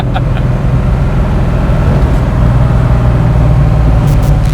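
A 1969 Ford Mustang fastback restomod with a 347 stroker V8 and five-speed pulls hard in second gear, a loud, steady low engine drone filling the cabin throughout with no one speaking.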